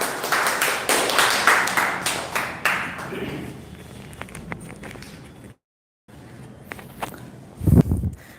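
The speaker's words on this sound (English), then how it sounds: "big round of applause for Amit here" Applause for a student presenter at a classroom practice session, a burst of clapping that thins into scattered claps and taps with a brief silent gap, then a few closer bumps near the end.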